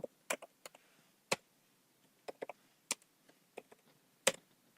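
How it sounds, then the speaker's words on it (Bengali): Sparse, quiet clicks of typing on a computer keyboard, irregular key taps with short pauses between them in an otherwise silent room. "আমরা কিছু আমাদের পেজে টাইপ করে নিয়েছি"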